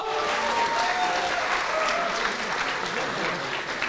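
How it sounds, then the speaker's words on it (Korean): Loud, sustained audience applause for the winning fighter, a 7-0 Dagestani, after a combat sports bout in Korea, a dense wash of clapping from a large crowd filling the whole stretch without a break. "승리하신 헌츠맨 선수께 큰 박수 부탁드리겠습니다."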